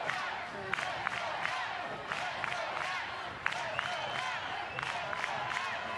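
A college softball crowd cheers and shouts at an Oregon Ducks versus Stanford Cardinal game, a dense, steady roar of voices with scattered whoops and sharp claps rising throughout.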